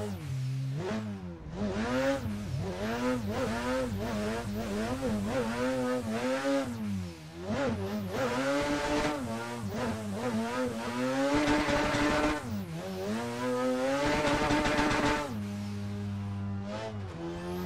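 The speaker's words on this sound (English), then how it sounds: "bringing out Nate's Drift Division RX8 here to Tsukuba Fruit" A Drift Division RX8 rotary-engined drift car in Assetto Corsa on the Tsukuba Fruits Line mountain road, its engine revving high and rising and falling continuously through repeated throttle blips and shifts, loud and close with brief tire squeal.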